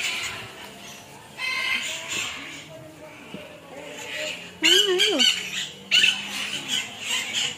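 Squawking calls from birds at a bird park, loud and harsh, coming in several bursts over background chatter and ambient noise, with voices talking nearby.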